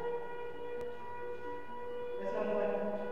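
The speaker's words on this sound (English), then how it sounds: "It sounded like World War II siren." An air-raid siren like a World War II siren, heard inside an old lunatic asylum building, drones as a steady layered tone that swells slightly near the end, faint and distant.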